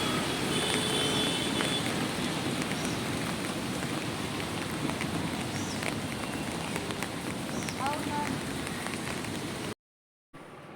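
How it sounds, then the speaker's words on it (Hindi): Heavy rain pours down steadily in a broadband hiss with scattered drop impacts, loud and continuous, then cuts to a brief silence near the end; a few faint birdlike chirps sit under the downpour. "बारिश बहुत तेज़ आ रही थी"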